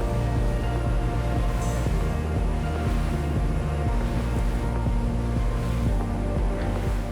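Twin 880-horsepower engines of a Tesoro T40 motor yacht roar at high speed, up to 43 knots, a steady deep drone with rushing water and wind noise running continuously.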